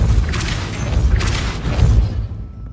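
Depulso spell cast in the video game Hogwarts Legacy, loud rumbling booms with whooshing bursts, two main surges swelling and fading before the sound tails off toward silence.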